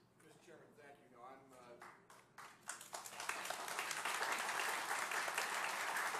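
Applause from an audience in a legislative hearing room: a few scattered claps under talk at first, building after about two seconds into steady, dense clapping that fills the rest.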